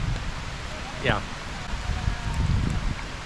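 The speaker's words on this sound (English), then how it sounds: "It's raining harder." Heavy rain falls on a farm in the Philippines as a dense, steady hiss across the whole span, with a brief whistle-like sweep partway through and a person speaking briefly over it.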